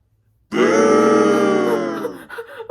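A human voice imitates gagging with one loud, strained retching groan that starts abruptly, holds, then breaks into a few choppy, fading heaves.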